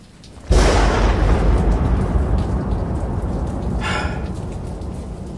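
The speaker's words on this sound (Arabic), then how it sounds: "هاو اضرب الرعد" A sudden loud thunderclap breaks over steady heavy rain, then rolls and rumbles on with a second crack partway through, with no voices.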